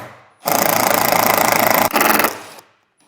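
A power driver runs a screw down while a Front Runner Slimsport platform rack is installed, a loud, fast rattling whir for about two seconds with a brief pause, then trailing off.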